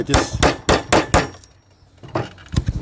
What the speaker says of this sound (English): We have to chisel this piece out